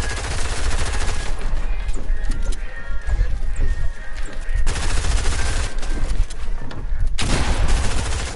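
Dense video game gunfire, rapid overlapping bursts and volleys filling the scene loudly and continuously, with scattered impacts and little pause between shots.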